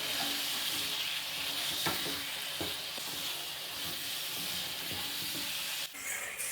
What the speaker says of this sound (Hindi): 1 से 2 मिनट हम चिकन को फ्राई करेंगे।